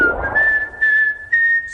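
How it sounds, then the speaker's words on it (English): A person whistles a sustained, steady tone in three phrases, close and fairly loud, with brief pauses between them and no talking. "Carry on whistling. Keep whistling."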